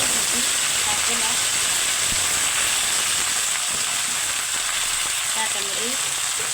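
Leafy greens frying in a pan with onion and garlic, a dense, loud continuous hiss and sizzle with faint scraping underneath, while someone speaks briefly.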